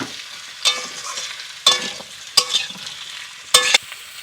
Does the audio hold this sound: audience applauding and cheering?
no